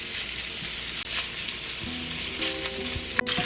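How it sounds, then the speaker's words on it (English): Bacon sizzles and crackles steadily in a large skillet over medium heat, with a few soft clinks and scrapes of stirring over the constant frying hiss. "After cutting your bacon, go ahead and place them in a large skillet over medium heat."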